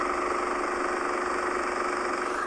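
A small IMAX film camera motor hums and whirs steadily, a continuous mechanical drone close by with no pauses.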